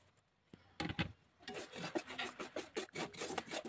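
Fried semolina is stirred into sugar syrup in a pan, giving quiet, rhythmic scraping and rubbing strokes that start after a brief pause and repeat quickly to the end, with no voices.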